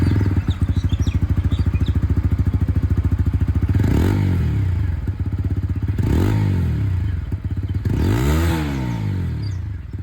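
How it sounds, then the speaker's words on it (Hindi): A TVS Apache RTR 160 4V motorcycle with an underbelly exhaust idles in a close, throbbing putter, then revs up and falls back three times in quick blips. "तो सबसे पहले बुलपअप एग्जॉस्ट की जो आवाज है वो आप लोग सुन लीजिए।"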